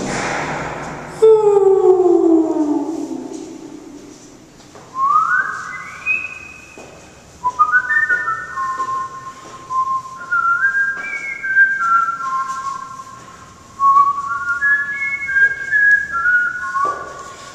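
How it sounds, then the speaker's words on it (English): Someone whistles a wandering, slightly off-key tune in a reverberant stairwell, notes echoing, with a sharp thud near the start. "how's that for out of tune whistling?"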